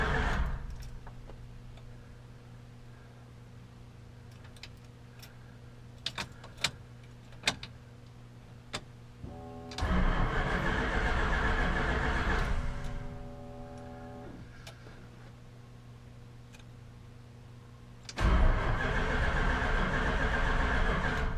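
A 1966 Chrysler 300 with a 383 V8 and Holley Sniper EFI cranks on its starter in two loud, sustained bursts after a quiet stretch of faint ticking, the second burst still going at the end.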